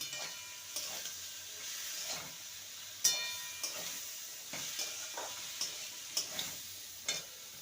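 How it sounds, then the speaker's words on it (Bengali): Ridge gourd, potato and chopped onion fry in a pan with a soft, steady sizzle, while a spatula makes regular light scrapes and taps as the vegetables are stirred. "পেঁয়াজ কুচি পেঁয়াজটাকেও মিনিট দুয়েক ভেজে নেব"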